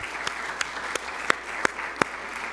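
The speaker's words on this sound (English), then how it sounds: "A round of applause for all the competitors here tonight." An audience at a national youth entrepreneurship challenge claps for the competitors. The applause is faint and thin, with a few sharp, evenly spaced claps standing out over a soft background.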